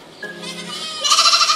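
A goat bleats close by, first a short nasal call and then a louder wavering bleat, alone with no talk.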